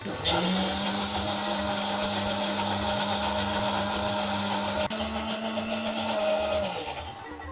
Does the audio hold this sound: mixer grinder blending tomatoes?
yes